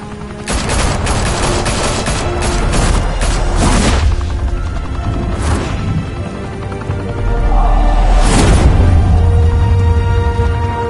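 Sustained volleys of gunfire in Batman: The Telltale Series, loud and dense, with repeated bursts and booming impacts over roughly eleven seconds.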